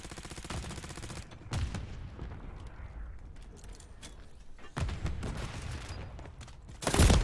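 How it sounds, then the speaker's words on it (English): Bursts of rapid machine pistol fire in Call of Duty MW3 multiplayer come in several sharp volleys separated by quieter stretches, with the loudest burst right at the end. "that fucking machine gun pistol's stupid, dude"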